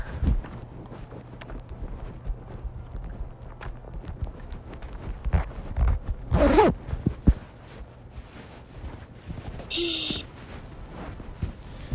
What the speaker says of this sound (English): Wait, I'm gonna zip on my jacket,